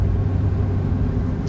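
Car driving along a road at night with one headlight out, heard from inside the cabin. A steady, loud low rumble of engine and road noise runs continuously with no talking.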